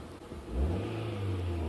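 A car engine hums steadily while driving on an empty parking lot, with a low drone that swells slightly as it accelerates, close and continuous, no talking.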